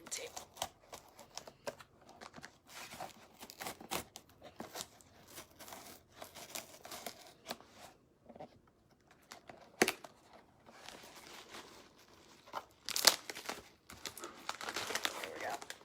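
Stripping tape being peeled and torn off the packaging of an Always Fully Booked 2019 planner, giving irregular crinkling and tearing bursts that are loudest near the end, with quiet handling noise between.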